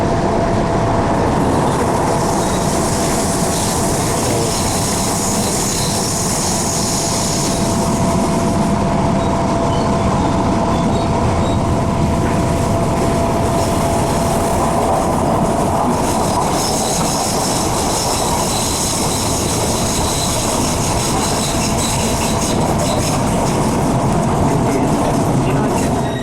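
Tyne and Wear Metro train riding through the late evening toward South Shields, with a steady loud rumble of wheels and motors, rail clatter and occasional squeal throughout, faint passenger voices underneath.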